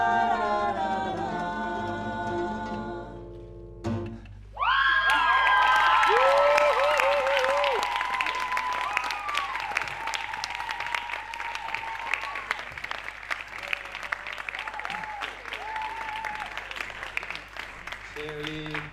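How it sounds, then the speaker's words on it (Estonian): An audience at a live music stage event breaks into loud, sustained applause after a song ends, dense clapping with some cheering that carries on steadily, with a few voices talking over it. "see oli päris vapustav aplaus hetkel."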